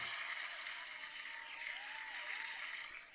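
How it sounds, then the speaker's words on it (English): Applause from a live pro wrestling podcast audience, a faint, distant wash of clapping that holds steady and thins slightly toward the end, with no talking over it. "That was a loud clap."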